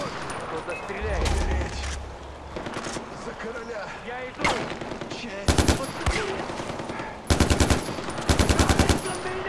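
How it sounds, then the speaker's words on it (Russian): Automatic gunfire in the video game Far Cry 4, with several loud rapid bursts of machine-gun fire separated by gaps, mixed with in-game noise and voices. "Кто-то стреляет!"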